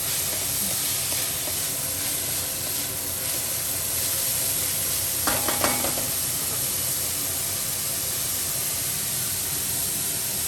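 Bell peppers, beans and carrots frying in a pan for mushroom fried rice, a steady broad hiss like steam running throughout, with a brief clatter midway and no voices.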